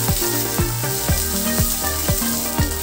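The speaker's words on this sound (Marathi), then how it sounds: "आता यामध्ये आपण बारीक चिरलेली कोथिंबीर आणि पुदिना घालूया, तसेच त्यामध्ये टोमॅटो चिरलेला घालूया।" Chopped onion, coriander, mint and tomato frying in a pan for egg biryani make a loud, continuous sizzle, with rhythmic stirring strokes scraping through it.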